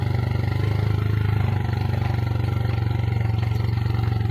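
A motorcycle idles steadily on a steep downhill road, its low engine chugging in an even rhythm, close and continuous without talk.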